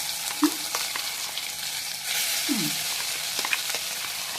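Gravy poured into hot oil tempered with cumin and mustard seeds, giving a steady close sizzle and frying crackle with a couple of brief utensil scrapes.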